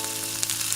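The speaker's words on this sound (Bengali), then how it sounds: "এই তো ডিমগুলোকে একদম সহজে ভেজে নিচ্ছি" Eggs sizzle and crackle steadily in a hot pan, a close, continuous frying hiss with no voices.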